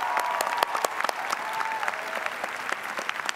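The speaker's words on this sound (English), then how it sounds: "Graduates, let's give them a hearty round of applause." A graduation ceremony audience applauds the faculty, with a dense wash of clapping and distinct sharp individual claps popping out, steady and fairly loud throughout.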